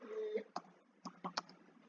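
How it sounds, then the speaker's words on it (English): Computer keyboard keys tapped while entering Arduino-style code for an aeroplane light project, a few sharp separate clicks in an uneven rhythm, close and fairly quiet, with no voices. "here we are typing 350 semicolon and two forward slashes"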